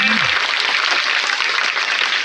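A crowd at a village ceremony claps loudly to welcome the village head, steady dense applause that carries on throughout.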